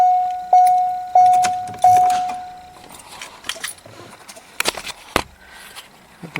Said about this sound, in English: The relay's clicking.